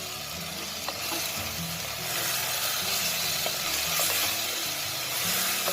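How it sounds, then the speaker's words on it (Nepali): Onions and local chicken sizzle in a pan as they are stirred, a dense steady frying hiss with soft spoon scrapes and occasional clinks, close and continuous with no voices. "2 मिनट पछि फेरि एकचोटि म यसलाई मिक्स गर्दैछु"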